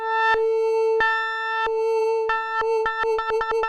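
A steady FM synth tone on a Sonicware Liven XFM keeps its pitch while clicky pulses cut in, first slowly and then faster and faster toward the end.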